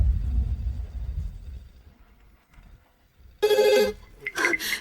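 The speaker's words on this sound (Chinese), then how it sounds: "周总，客户又打电话来了" A low rumble fades away to near quiet, then a loud electronic telephone ring bursts in twice near the end.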